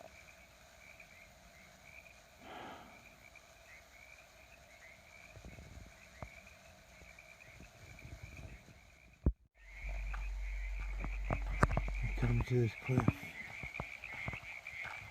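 A steady chorus of croaking frogs fills the background throughout, with birds and a person speaking briefly over it.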